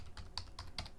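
Keys tapped on a computer keyboard in a handful of quick, evenly spaced clicks, soft and close with no voice over them.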